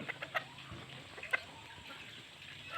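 Young gamecock roosters in a yard give a few faint, scattered clucks against quiet evening background noise.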